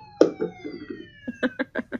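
A siren in a video game wails with a slowly falling tone, running under a string of dull, rhythmic thumps.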